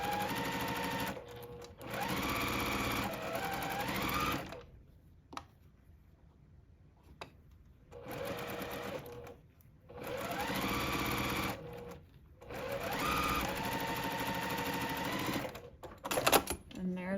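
Sewing machine chain piecing curved quilt block pieces, convex on top and concave below, running in long steady bursts with short pauses between, close and loud, a voice speaking faintly at times.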